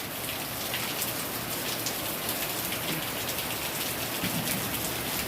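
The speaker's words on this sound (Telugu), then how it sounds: "వర్షమేనండి, వర్షం ఉంటే చాలు సకల జీవరాశులు." Steady rain falling outside a house, a soft even patter of drops on surfaces that continues without pause or voices.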